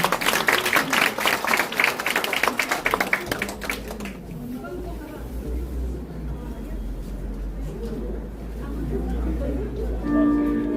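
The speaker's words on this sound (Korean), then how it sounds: "다시 한번 큰 박수 부탁드리겠습니다." Audience applause at a candidate's election campaign office opening in Mapo, Seoul, a burst of dense clapping for about three seconds that breaks off and gives way to a low rumbling room tone.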